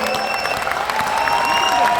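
Audience applause at the Muscat Tamil Sangam mega musical event for a singer, a sustained wash of clapping from a large crowd with some cheering mixed in.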